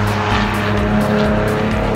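A yellow BMW E36 drift car tears uphill through a corner, its engine roaring loud and unbroken with tire squeal layered on top, close and continuous, with no talk.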